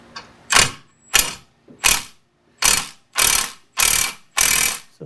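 Ratchet tightening the adjuster on a budget load leveler fitted to a V10 Dakota, seven loud bursts of rapid clicking separated by short pauses.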